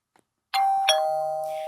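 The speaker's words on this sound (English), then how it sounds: "They've even incorporated a doorbell," A TP-Link Tapo DL110 smart lock's doorbell chime sounds alone and close: two bright electronic ding tones with a long sustained ring fading slowly, after a brief faint click.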